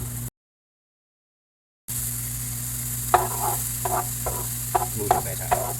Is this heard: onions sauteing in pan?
yes